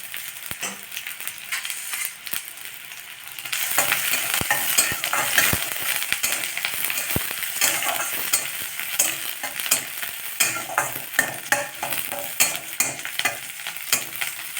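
Ingredients for mudakathan keerai soup sizzle in a hot pan while being stirred and tossed, with steady frying hiss and scattered scraping clicks, close up and continuous.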